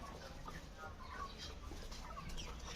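Soft, low clucking from a chicken, close by and fairly faint over quiet background noise.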